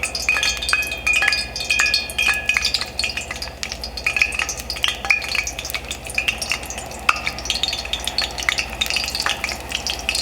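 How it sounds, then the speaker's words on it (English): Egg rolls made from leftover Thanksgiving food fry in hot oil, giving a steady, close, crackling sizzle with scattered pops and occasional light clinks of a utensil stirring. "But you can hear it sizzling, I know it's frying"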